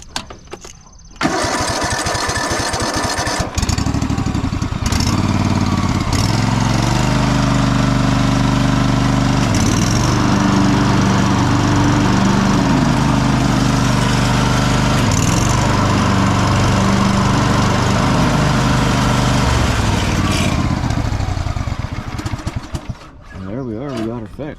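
A Husqvarna YTH15 riding mower, an older machine, cranks and starts with its repaired deck engaged and spinning. The engine runs loud and close for about twenty seconds with slight surges, then winds down near the end.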